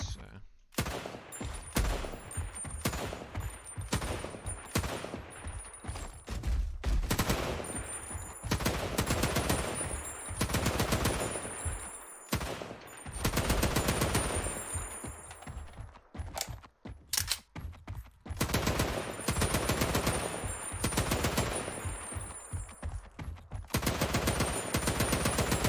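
Gunfire at a shooting range in a weapons and vehicles game prototype: repeated loud bursts and single shots in irregular clusters, separated by short quiet gaps, with no talk over them.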